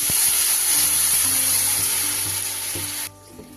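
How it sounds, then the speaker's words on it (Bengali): Water going into a pan sizzling with hilsa fish for a thin curry: a loud, close sizzle and bubbling roar holds for about three seconds, then cuts off sharply and leaves quiet, faint clinks. "এবার আমি দিয়ে দেব এর মধ্যে পরিমাণ মতো জল।"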